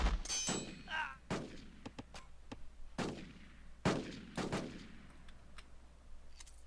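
Tanks opening fire in the strategy game Rise of Nations, a string of sharp separate blasts at uneven intervals, each trailing off in a short decay, over faint background battle noise.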